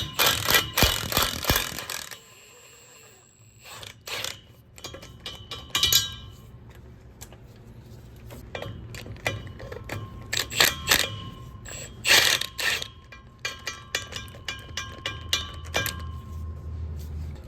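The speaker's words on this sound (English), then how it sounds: "to get the drive shaft out, you're gonna need to remove these 4 T45 bolts" A ratchet backs out T45 drive shaft bolts on a truck, producing bursts of close metallic clicking and clinks separated by brief pauses, with no talking.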